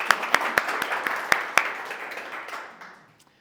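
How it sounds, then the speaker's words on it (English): A small audience at a SaaS startup talk applauds the event host, with a few sharp, prominent claps over a soft bed of clapping that fades out within about three seconds. "Let's give a round of applause for Workbox for hosting."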